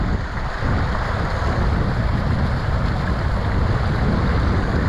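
Creek water churning loudly during a crossing in the Arizona desert, a dense continuous rush and roar, close to the microphone and steady throughout, with no talking.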